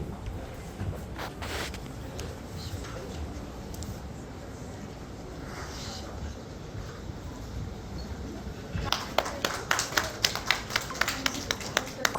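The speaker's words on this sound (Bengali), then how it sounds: "একটা জোরে হাততালি হোক ওনার জন্য" Applause breaks out from an audience for a stylist at an on-stage event, with a quieter stretch of scattered sounds first, then sharp clapping that swells near the end.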